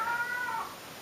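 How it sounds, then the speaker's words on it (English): A single drawn-out meow from a female cat in heat, close and fairly loud, tapering off within a second. "that's my cat."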